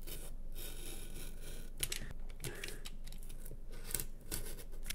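Scissors snip and rasp through cardboard pieces for a homemade box piggy bank craft, a steady close scraping cut with a few sharper clicks, no talking.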